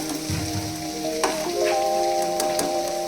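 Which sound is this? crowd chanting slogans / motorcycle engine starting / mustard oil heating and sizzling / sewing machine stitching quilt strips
mustard oil heating and sizzling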